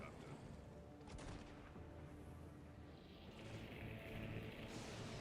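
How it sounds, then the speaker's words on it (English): Cannons fire in the Guild Wars 2 video game, a fairly quiet, continuous barrage of rumbling booms with a sharper burst early on, all blended into a dense game soundscape. "Ah yes, Auric unleash the cannons."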